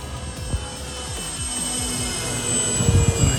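A remote-control jet plane flies past with a steady, loud turbine whine and roar, a sustained high tone sliding slightly over a few seconds.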